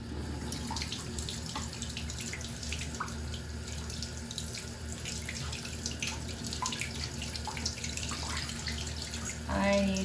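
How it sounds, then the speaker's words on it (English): Running water from a tap streams steadily over a screenprinting screen during rinsing, a constant close splashing and hiss with scattered drips and small knocks throughout. "Okay, I'm gonna give it a rinse."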